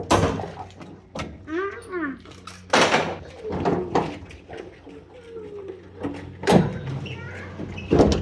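The tailgate of a 1994 Chevy K1500 pickup with a broken latch is lowered, giving a few heavy metallic clunks and thuds close by, with someone talking between them.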